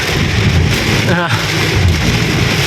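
Heavy rain pours steadily through a storm in Bangkok, a dense continuous hiss with low rumbling underneath and a brief tonal sweep near the middle.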